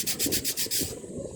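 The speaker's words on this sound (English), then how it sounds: "Just take, say, your sanding stick and give it a good brush." Quick rhythmic brushing scrape, several strokes in a row of a sanding stick rubbing over plastic model tank track links, close and fairly loud, then tapering off.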